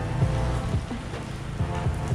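Steady rain falls and patters on a surface nearby, a continuous wash of drops with a few heavier splashes, and no one speaks.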